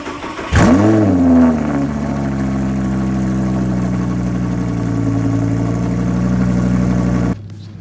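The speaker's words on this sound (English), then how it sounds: "We'll fire up the R8, head on out" Audi R8 engine cranks and fires, flaring to a loud rev before settling into a steady, throaty idle that holds close by until it cuts off near the end.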